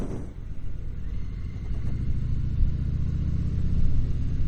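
A 2018 Harley-Davidson Sport Glide motorcycle on the move, its engine a loud, steady low rumble that builds slightly as the ride continues, with no talking.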